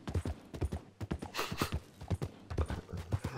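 Horse hooves clip-clop in Red Dead Redemption 2, a brisk, regular trotting rhythm of crisp close hoofbeats with a brief whoosh partway through, heard without talk.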